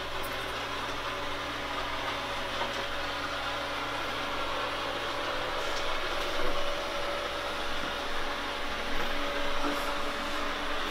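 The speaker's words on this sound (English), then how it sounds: "It goes to the charging pad by itself after it's done vacuuming. An automatic vacuum." A robot vacuum cleaner runs with a steady, fairly loud whirring hum of motor and brushes that holds even throughout, swelling slightly now and then, with no voices.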